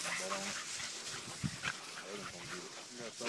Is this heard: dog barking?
yes